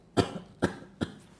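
Three short, sharp coughs spaced about half a second apart, close and fairly clear, each fading quickly, during a group therapy exercise session.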